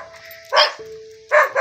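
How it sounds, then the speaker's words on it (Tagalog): A dog at a hillside house barks close by, two or three sharp bursts separated by a short pause. "May aso."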